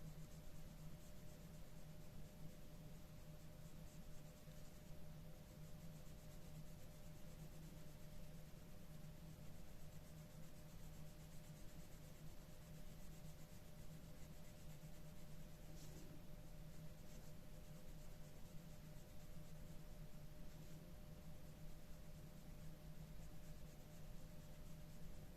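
Colored pencil shading lightly on paper, a continuous soft scratchy rubbing under a steady hiss and low hum, even and faint throughout.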